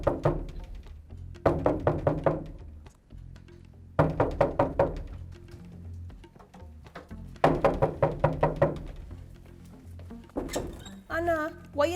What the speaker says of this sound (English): why you knocking down my door?